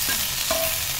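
Coconut and mint being sautéed in a pan for pudina chutney, a steady close sizzle with a brief scrape of stirring partway through, no voices.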